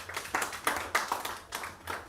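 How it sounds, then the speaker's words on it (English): An audience claps for a speaker at a launch event on online child protection, a short, uneven patter of hands that swells and eases over two seconds, with no talk on top. "please give him a hand clap as he starts"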